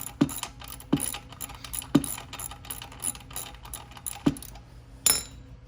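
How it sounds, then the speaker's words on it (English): A ratchet loosening the muffler bolts on a Venom Motorsports x22GT 250cc motorcycle gives close, rhythmic clicking strokes roughly once a second, with sharper metallic clacks marking several of the strokes. "you can go ahead and take these bolts out"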